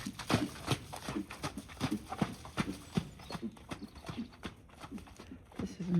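Hooves of a hunter horse clip-clop in a rhythmic, fairly close series of sharp knocks while it is shown in Ireland, steady footfalls with faint background murmur.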